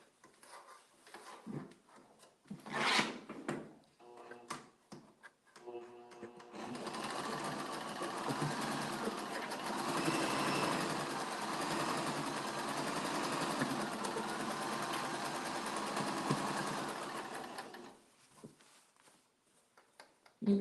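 A sewing machine stitches quilt block pieces together for a flying star quilt block, running in one long steady burst of about eleven seconds after a few soft handling sounds.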